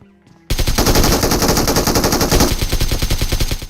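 Rapid automatic gunfire from the mobile battle royale game BGMI (Battlegrounds Mobile India) bursts in after a brief quiet start, a loud sustained stream of shots in a tight repeating rhythm that runs to the end.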